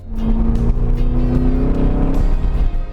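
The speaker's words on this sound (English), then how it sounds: "Here's the Z06." Corvette C5 Z06 sports car engine droning loud and close with a steady, sustained tone, holding a constant pitch before easing slightly near the end.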